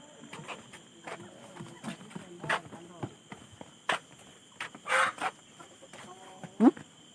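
Chickens cluck in a village yard beside a waterpark outing, short irregular calls mixed with scattered footsteps, knocks and nearby family chatter.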